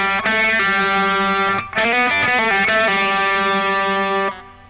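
Overdriven electric guitar plays a solo lick, with sustained ringing notes, a quick run of pull-offs and slides in the middle, then a held note fading out, loud and close with no speech.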